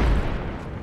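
A frag grenade explodes in Apex Legends during an Arenas match: one short, heavy low boom that quickly fades into a rumbling tail.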